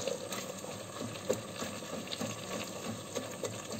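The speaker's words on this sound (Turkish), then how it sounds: "Şimdi salçamla sebzelerimi güzelce soteleyeceğim." Vegetables sizzle with tomato paste in a pan for a pea dish, giving a faint, continuous frying crackle with small scattered pops and stirring sounds.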